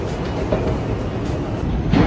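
Rumbling subway train and station ambience in a New York City underground station, a steady loud roar of rail noise with no speech.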